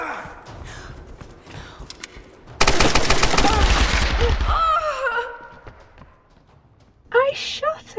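Burst of rapid automatic gunfire in the Tomb Raider video game, loud and dense for about two seconds, with voices and game sounds around it and a short sharp burst near the end.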